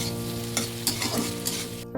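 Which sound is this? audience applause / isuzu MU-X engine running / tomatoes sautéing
tomatoes sautéing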